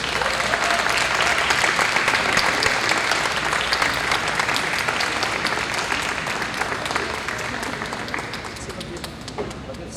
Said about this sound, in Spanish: Un fuerte aplauso para ellos 4.